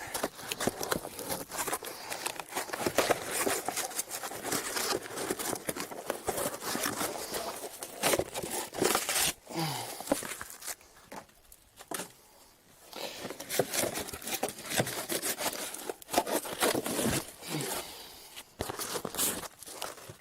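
Paper and cardboard are torn and crumpled by hand in a garden while a vertical strawberry tower is built, producing irregular crackling and ripping bursts up close, with brief quiet gaps.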